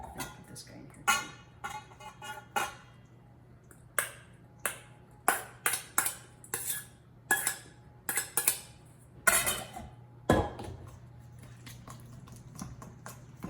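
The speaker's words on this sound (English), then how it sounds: "And you're just stirring that up with a spoon." A spoon stirs lemon zucchini bread batter by hand, with a quick series of bright clinks and taps against the bowl that come in irregular bursts, close and clear.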